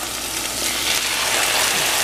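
Alfredo sauce poured into a pan of browning chicken, a steady loud sizzle and crackle that swells slightly as the sauce hits the hot pan, close with no talk.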